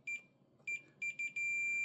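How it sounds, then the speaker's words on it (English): A multimeter in continuity mode beeping on fused pins of a Mitsubishi XC-3715C CRT monitor, three short high electronic beeps followed by a sustained tone, clear and close in a quiet room. "So that beeping just means that these are fused."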